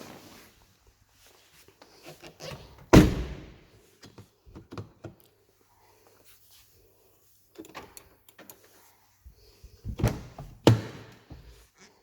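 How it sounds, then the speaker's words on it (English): Car doors are opened and closed during a vehicle inspection: a firm slam, scattered latch clicks and handle rattles, then two more thuds near the end, separated by quiet gaps. "and all doors are opening and closing."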